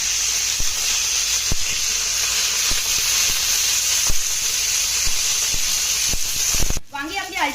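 Eggplants flipped in a covered pan, with a steady steamy sizzle and hiss throughout and light periodic knocks of turning, ending in a brief clatter as the sizzle cuts off.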